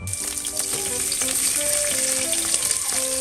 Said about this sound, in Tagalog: So igisa na natin ang sibuyas at bawang hanggang maging golden brown at maluto na.